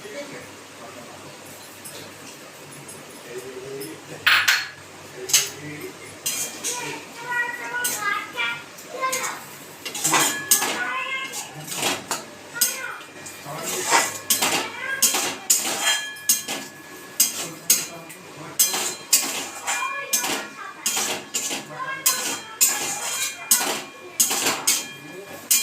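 Metal clinks and scrapes of a spoon stirring oil-free chicken in a pot, irregular close clatters running through the whole stretch, with someone talking over it.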